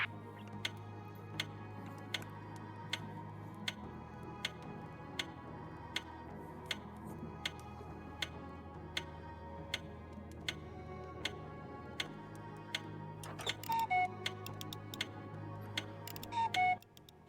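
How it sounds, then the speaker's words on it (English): Steady clock ticking from the puzzle game We Were Here Together, evenly spaced ticks roughly every two-thirds of a second over a low ambient drone, with a brief chime or cuckoo-like tones near the end. "How fast is your clock ticking?"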